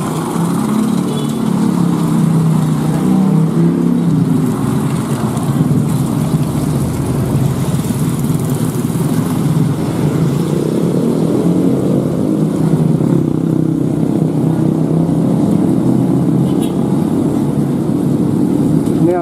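An angkot minibus drives in roadside traffic near Garut with a continuous engine drone that shifts in pitch as it passes, along with ambient street noise and some talk underneath.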